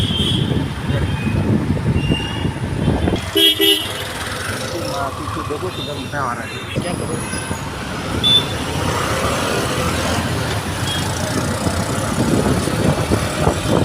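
A car engine hums steadily while driving along a road in Mumbai, a continuous close rumble of traffic noise lasting throughout, with people talking inside the vehicle.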